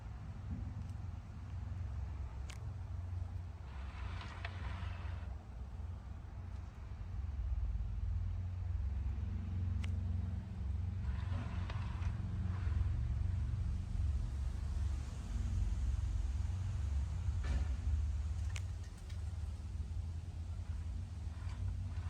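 A worn motorized lazy Susan turntable turns, giving a steady, low mechanical rumble that continues throughout at a moderate level. Faint brief ticks sit above the rumble, and no one speaks.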